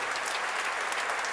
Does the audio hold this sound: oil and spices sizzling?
no